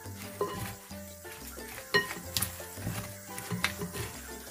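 Dried anchovies are tossed and mixed with gochujang seasoning in a bowl, giving soft sticky stirring and scraping with occasional light clinks of a utensil against the dish, close and quiet.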